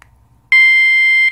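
A G Keni rechargeable bike tail light with an anti-theft alarm gives a short chirp, then a piercing, very loud continuous electronic tone lasting under a second, close to the microphone.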